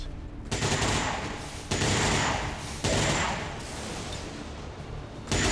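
Gunfire from the tactical game XCOM 2, three loud, sustained bursts of rapid automatic shots, each cutting in sharply and trailing off, with a fourth starting at the end.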